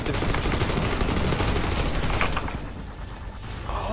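Rapid automatic gunfire rattles loud and close on the Pripyat map of a video game, a continuous burst that eases off into fainter shots near the end.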